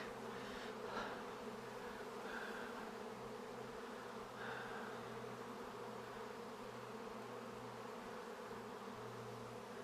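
A thick, steady hum of a large swarm of about 20,000 honeybees up close, a constant buzzing drone with occasional brief swells.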